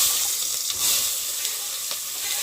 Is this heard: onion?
yes